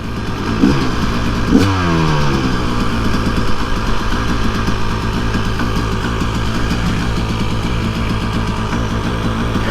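KTM two-stroke dirt bike engine revving loudly and close by, a couple of sharp throttle blips early on, then a steady, raspy high-rev drone held for the rest of the stretch, with no voices.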